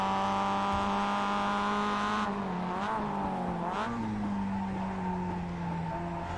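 A Mazda MX-5 Miata race car in the iRacing video game at Summit Point, its engine droning loud and steady with a couple of brief dips and pitch shifts as it exits a corner, with no talk.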